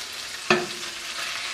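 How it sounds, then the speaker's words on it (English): Steady sizzling of garlic, ginger and chicken frying in a pan, with one sharp metallic clink of a spoon against the pan. "those aromatics are starting to sizzle and bust out their flavors"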